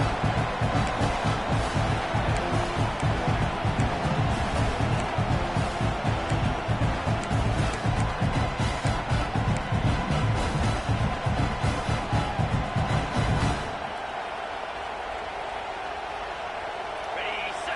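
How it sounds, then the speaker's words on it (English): A big stadium crowd at an Ole Miss football game roars continuously, loud and dense, while the defense holds near the goal line. A commentator talks over the noise, and the roar cuts off abruptly near the end. "this big crowd doing everything possible to inspire this defense down here near the goal line"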